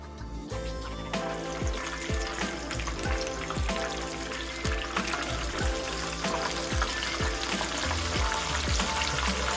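Chicken fried steak fries loudly in a pan of oil, a dense continuous sizzle and crackle with rhythmic clicking pops running steadily throughout.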